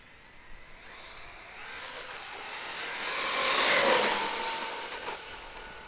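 A Traxxas Maxx RC car on a Hobbywing Max 6 system on 6S makes a road flyby, its high electric whine swelling as it approaches, peaking close, then fading away.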